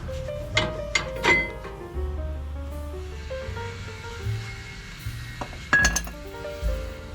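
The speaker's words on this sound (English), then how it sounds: "with those bolts out, we can pull the bracket off" A brake caliper bracket comes off the rear of a Nissan Xterra, Frontier or Pathfinder, with several close, bright metallic clinks and knocks scattered over a low background hum, no talking.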